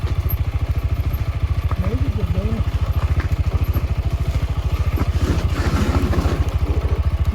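Motorcycle ridden over dry ground with its wheel skidding, a loud, close, steady engine throb running throughout with clattering over it and a voice talking.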